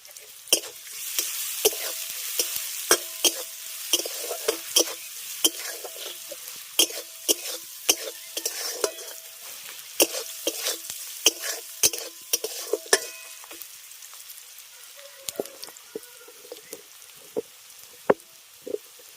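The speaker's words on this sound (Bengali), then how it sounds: "পেঁয়াজটা ভাজার সময় সামান্য পরিমাণে লবণ দিচ্ছি যাতে পেঁয়াজটা নরম হয়ে যায়" Onions frying with a little salt in a pan, steady sizzling broken by frequent sharp scrapes and clinks of stirring, close and moderately loud with no talk.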